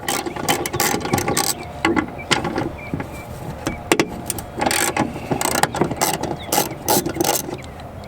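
A ratchet with a 13mm socket works the hood hinge bolts at the firewall of a Jeep Wrangler, giving rapid, repeated metallic clicking bursts close up, with short pauses between runs of turning.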